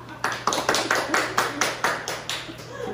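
Rhythmic hand clapping from a few people seated at a family table in a charcoal-grilled eel restaurant, about a dozen sharp, evenly spaced claps, close and fairly quiet, with no talk over them.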